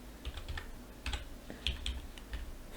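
Keystrokes on a computer keyboard while a web address is entered into a Shopify store theme setting, a few short bursts of clicky taps with brief pauses, close and moderately quiet, with no talking.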